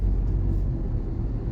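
A Hyundai Venue N Line N8 with a dual-clutch transmission cruises in Eco mode, heard from inside the cabin as a steady, loud, low road rumble and engine drone with no talking.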